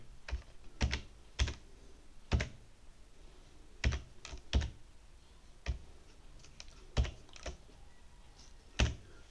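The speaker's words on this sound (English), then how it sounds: "So I'm just going to enter a password now." Password being typed on a computer keyboard: a dozen or so sharp, close key clicks in an uneven rhythm with short gaps, alone in a quiet room.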